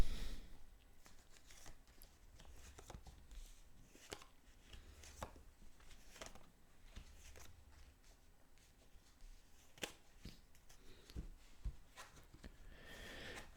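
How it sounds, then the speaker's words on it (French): Tarot cards are shuffled by hand in a quiet room, with soft, irregular riffling and tapping repeated over several seconds, faint and close, and no voice. "je termine de mélanger les cartes"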